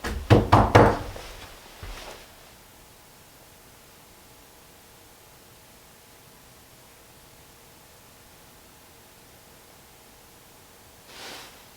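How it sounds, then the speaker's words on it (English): Several quick, loud knocks on a door in a quiet room, followed by one softer thud, then long near-silent hiss with a faint distant sound at the end; no talk. "So I'm going to knock again."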